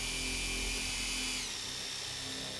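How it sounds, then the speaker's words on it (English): A power drill pre-drilling a wooden kitchen cabinet before installation: a steady, high, continuous whine that shifts slightly in pitch partway through, close and alone. "pre-drill the cabinet before we install it"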